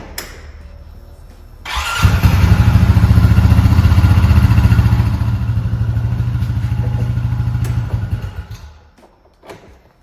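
The engine of a 2021 Honda Pioneer 520 side-by-side starts up and runs loud and close, warming up at a steady clattering idle for several seconds before cutting off.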